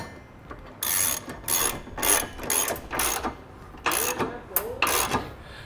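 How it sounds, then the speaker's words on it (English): Trailer hitch hardware on a Draw-Tite Max-Frame receiver being tightened with an 11/16 socket ratchet, giving about eight close, loud bursts of rapid clicking separated by short pauses. "now we'll go ahead and tighten down all the hardware using an 11/16 socket"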